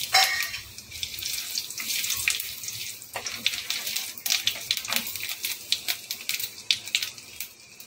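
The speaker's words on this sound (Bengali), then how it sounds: "তেল গরম হয়ে গেছে, ফোড়নটাকে দিয়ে দিলাম।" A spice tempering goes into hot mustard oil and sizzles with a continuous close crackle, joined by sharper pops and spatters as it fries.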